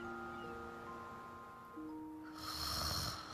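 A sleeping video game character snores, a soft breathy sound under steady tonal game music, with a brighter chime-like burst near the end.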